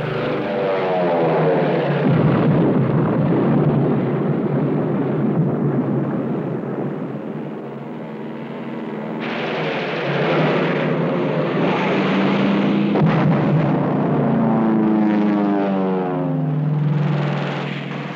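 A low propeller-aircraft drone from American WWII fighter planes on a February 1944 airfield strike, loud and continuous, swelling and fading as the planes pass, with rumbling blasts mixed in.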